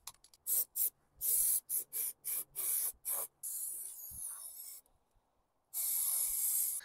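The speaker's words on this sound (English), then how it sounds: "spray a bit of protection on." Short bursts of aerosol protective coating spray hiss in quick succession onto an MG TF sill repair, then a longer continuous spray, a pause, and another sustained spray close to the microphone.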